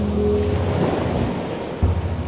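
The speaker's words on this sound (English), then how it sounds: "massive waves crashing into the cliffs right outside the gardens" Massive ocean waves crash into the cliffs at Shore Acres on the Oregon coast, a steady loud roar of surf with a fresh surge near the end, mixed with wind rumble.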